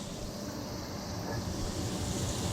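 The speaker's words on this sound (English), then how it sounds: "I had my vent fan on making noise." A kitchen vent fan runs steadily as a continuous broadband whoosh, with low rumble from the kitchen where fish is frying and carrots are being cut. No one talks.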